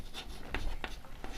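Pen or pencil scratches on paper as someone writes a definition by hand. A few quiet, brief strokes come close together in a soft, steady rhythm.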